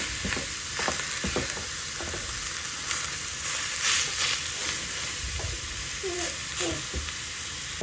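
Chopped meat sautéing in a hot pan for a Turkish et sote, a steady close sizzle and hiss with occasional stirring scrapes, no talk.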